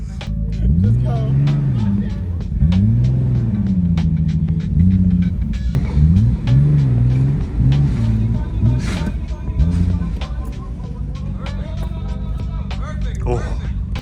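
A Nissan GT-R drives along as its clutch slips, the engine rumbling loud and steady with rising and falling revs, while people talk inside the car over it.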